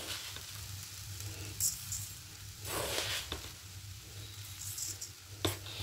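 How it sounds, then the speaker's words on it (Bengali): Coconut and sugar stirred continuously in a hot wok, a soft steady sizzle with scraping strokes of a spatula and a few sharper clinks, fairly close and at moderate volume. "এবার অনবরত নাড়তে থাকবো চিনি আর নারকেলটাকে"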